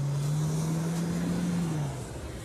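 A car pulls away close by with a loud, steady engine drone that holds and then fades slightly as it departs.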